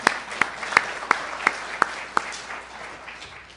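A lecture audience claps in a brief, thinning round: a few dozen hands at first, then scattered individual claps that taper off over a few seconds.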